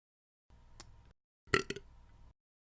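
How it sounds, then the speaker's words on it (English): A burp during a podcast recording, a faint muffled rumble, then a louder, close, guttural belch with a couple of short pulses over a quiet room tone. "it's the first burp on the podcast"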